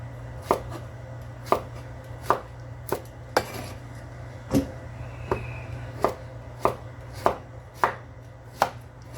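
A knife slicing zucchini on a cutting board, sharp evenly spaced knocks about once a second, close and clear over a low steady hum.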